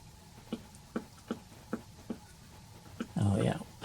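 A vintage Atwater Kent model 165 radio loudspeaker's voice coil gives soft, evenly spaced clicks as a regular 9-volt battery is tapped against it, about eight ticks followed by a louder crackling burst at the end.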